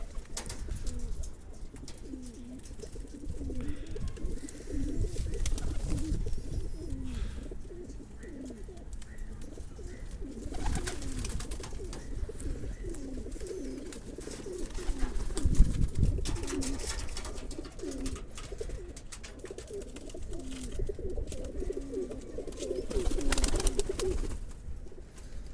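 A Ferozpuri female pigeon cooing in soft, repeated throaty phrases close by, with faint background noise and a few brief knocks between the calls.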